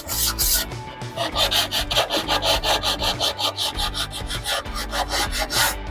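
Rapid back-and-forth rasping of sandpaper scraping against the edge of a metal angle bar, close and loud, with regular strokes repeating steadily.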